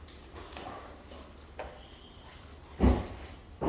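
A door opens into a dog grooming room, with soft handling knocks and a louder clunk of the latch near the end, close by over a quiet room background.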